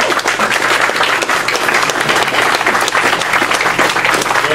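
Sustained, dense applause from a convention audience at a 1985 ThunderCats panel at Power-Con 2013, steady and loud throughout with no pause.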